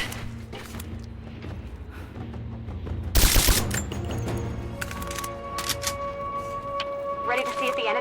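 Rapid bursts of gunfire from a Rise of the Tomb Raider shootout in the Baba Yaga: Temple of the Witch episode, with a loud cluster of shots mid-clip over steady game music and a player talking throughout.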